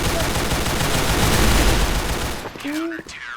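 Dense, continuous gunfire bursts from a video game fill most of the clip, then cut off abruptly, leaving a brief electronic tone and quieter sounds.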